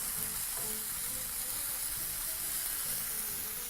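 Pieces of pork steak frying in a pan with excess oil, with a steady, dense sizzle and crackle that holds close and even throughout and no voices.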